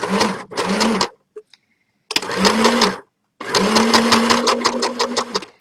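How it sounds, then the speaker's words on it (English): Sewing machine stitching the bottom of a striped tie-dye bag, with several bursts of fast rhythmic mechanical whirring of varying length broken by brief pauses, close and loud. "I'm going to need to go over it to make sure that the bottom is properly sewn"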